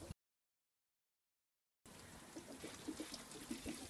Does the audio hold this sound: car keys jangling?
no